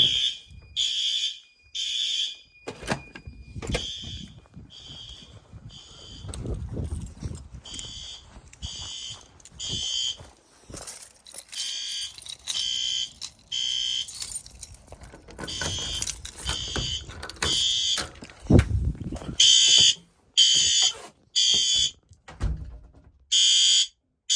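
A fire alarm horn strobe sounding during routine testing, loud repeated horn blasts in on-off bursts with short gaps, alongside clunks and handling noise nearby.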